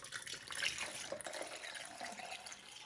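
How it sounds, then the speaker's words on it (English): Beer poured through a funnel back into a can for beer can chicken, a bright splashing, gurgling trickle of liquid that runs steadily at close range with no talk over it. "So now I want to just take a funnel because I don't trust my pouring skills. And we want to pour about half of this beer back in."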